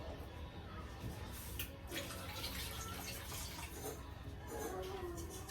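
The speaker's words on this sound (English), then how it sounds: "And to that, I'm going to add about 1 cup of water." Water pours into a pot of veggie broth in a faint, continuous gush and splash, with quiet kitchen background around it.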